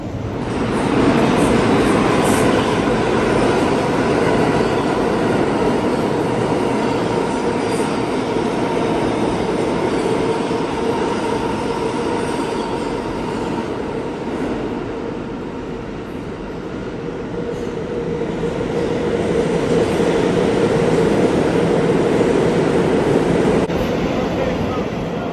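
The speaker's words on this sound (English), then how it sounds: "We have 4 minutes till our train arrives." A New York subway C train rumbles steadily along the platform, with a continuous loud roar of rail noise and wheel hum rising and falling over about twenty-five seconds, no talk over it.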